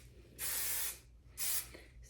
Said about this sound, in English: spray some hairspray up in there